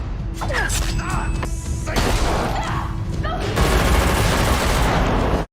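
Gunfire in a violent confrontation, several sharp cracks and booms in quick succession over a dense dramatic mix, loud and close, with a heavier burst near the end before it cuts off.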